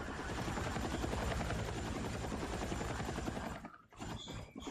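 Helicopter in Battlefield 6 whirs with a loud, steady rotor drone and chopping pulse that dips sharply near the end, with faint shots in the mix and no talk.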